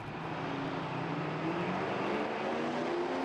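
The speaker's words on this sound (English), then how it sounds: "So the last pair of Run What You Run cars thunder down the track." Pro Mod and Run What You Run drag racing cars at a British Drag Racing Championship round roar down the strip, a dense, loud and continuous engine blast with rising harmonic whine throughout.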